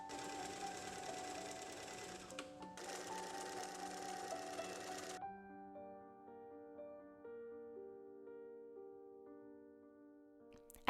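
A sewing machine stitches twill tape onto the seams of a skirt for a 1918-style outfit. It whirs faintly in two stretches over the first five seconds, with soft tonal background sound continuing afterward.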